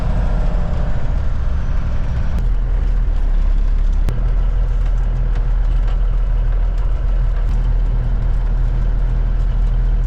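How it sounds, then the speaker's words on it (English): A car passing outside a parked K100 Cabover Kenworth truck, heard over a loud, steady low engine rumble with a couple of brief clicks and a faint swell as it goes by. "And there the car goes by."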